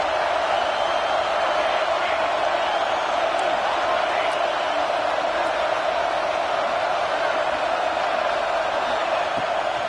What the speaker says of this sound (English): Third down play in the red zone, and this crowd is at fever pitch.